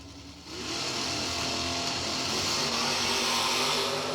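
A Dodge Dakota truck and a 1979 Chevrolet Malibu launch side by side at a street-car drag racing event. Their engines swell into a loud, sustained, roaring rev that fills the air after a brief quieter moment.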